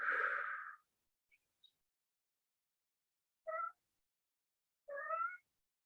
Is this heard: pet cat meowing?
yes